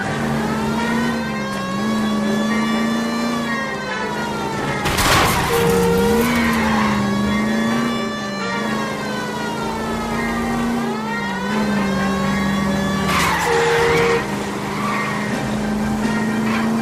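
Car chase in the video game L.A. Noire, with an engine droning and revving steadily throughout and two sharp bursts of tire skidding and squeal around the middle and near the end, loud and close with no talk.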